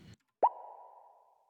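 Short synth pluck used as a phone notification attack: a soft click, then a single clean tonal ping that rings briefly and fades out, quiet and alone.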